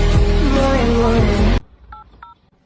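Several short telephone keypad dialing tones beep in quick succession, clear but modest in level, right after a loud burst of music cuts off.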